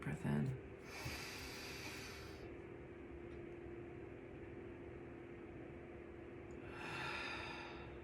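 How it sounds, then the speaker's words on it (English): A person drawing a big, deep breath in, a faint hissing inhale near the start and another near the end, with low background hum between. "Take a big deep breath in."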